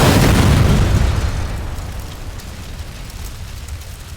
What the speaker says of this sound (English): The explosion of the High Flyer at 1:10 a.m. was even greater than that of the Grand Camp.